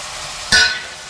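Mutton and potato pieces are stirred in a hot pan, giving one brief loud scrape and sizzle burst in the middle of a short stretch of quiet, steady background frying.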